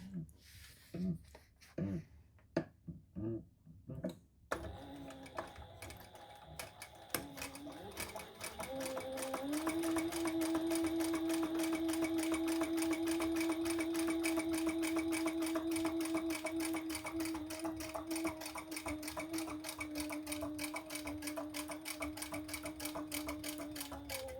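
A sewing machine top stitches the front of a crossbody bag with variegated thread, starting with a few short bursts and handling clicks, then running in a long, steady, close whirring stretch.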